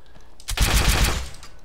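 A modded automatic crossbow fires in the Skyrim video game, giving a loud, dense burst of rapid shots that starts about half a second in and runs for about a second before fading, with no talk.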